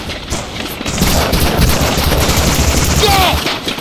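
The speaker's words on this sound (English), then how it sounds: "Covering fire!" Covering gunfire in the D-Day beach battle of Medal of Honor: Allied Assault, a loud, continuous roar of overlapping rifle and machine-gun fire with booming explosions, a shout heard faintly within the din.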